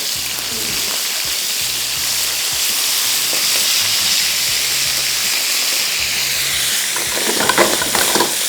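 Mushrooms and meat pieces fry in a pan with a loud, continuous sizzle and hiss, punctuated by scraping and clinks as pieces are flipped one by one, with a low mechanical hum underneath.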